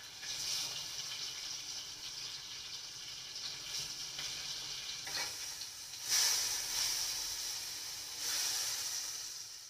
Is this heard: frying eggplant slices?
yes